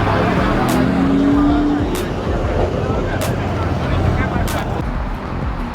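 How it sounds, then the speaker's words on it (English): Steady engine rumble of cars rolling in at a crowded night street race meet, several faint bursts of revving over a constant crowd murmur, with people talking throughout. "A lot more cars that are actually rolling in here"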